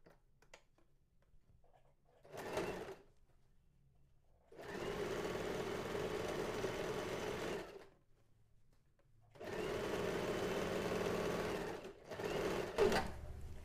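A sewing machine stitches the shoulder seam of a collared garment in three bursts: a short run, then two longer steady whirring runs, with quiet handling between them and no talk.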